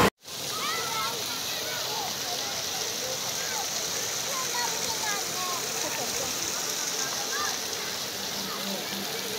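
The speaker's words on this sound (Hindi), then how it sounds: "ऊपर से पानी साफ़ आ रहा है, लेकिन ये बीच में बहुत गंदा पानी है यार" Water pours steadily through a decorative water feature in a gated housing community, a continuous, fairly loud rushing and splashing that fills the whole stretch, with no pause and no voices over it.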